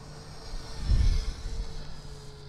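A small model airplane with small propellers drones with a steady high-pitched whine, its sound swelling briefly as it passes nearby in strong wind.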